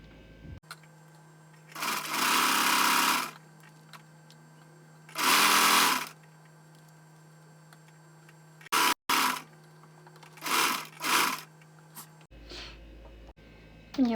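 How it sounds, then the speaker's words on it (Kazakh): A sewing machine stitches the edge of a headscarf in several separate bursts of fast, buzzing whir, with short pauses and a low steady hum between runs. "Строчка түсіреміз және оны обработка жасаймыз шетіне."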